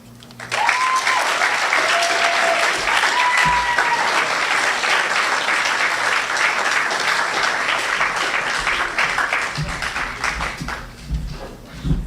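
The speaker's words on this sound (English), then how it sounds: "Big round of applause for everyone." A high school public speaking class's audience breaks into sustained, loud applause after the final student speeches. Dense clapping runs for about ten seconds, with a few whoops and cheers mixed in, before tapering off.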